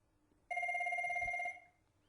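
A telephone gives a single electronic ring about a second long, clear but fairly quiet and somewhat distant, in an otherwise quiet room with no talking.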